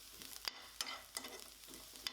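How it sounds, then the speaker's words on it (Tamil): Cashews and poppy seeds being sautéed in a pan, with a soft sizzle and a few sharp scraping clicks as the mix is stirred, quiet and close with no talking. "கூடவே ஒரு 1/2 டீஸ்பூன் அளவுக்கு கசகசா சேர்த்துட்டு இதை ஒரு 10 செகண்ட் அளவுக்கு வதக்கி விட்டுருங்க."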